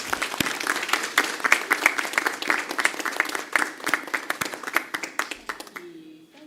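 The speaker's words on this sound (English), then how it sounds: "I ask that all of you give her a round of applause" A board of trustees meeting audience gives a round of applause: dense, lively clapping from a roomful of people that trails off into a few last claps near the end.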